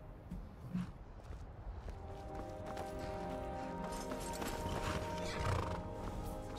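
Faint horse neighs and whinnies with clip-clopping hooves over a busy, low rumbling background in the city of Whiterun in Skyrim, all fairly distant and quiet.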